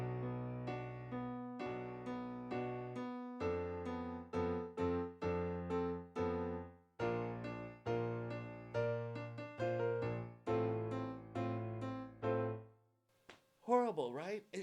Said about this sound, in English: if you try and play the same song without a sustain or damper pedal